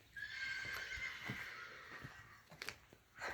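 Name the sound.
horse neighing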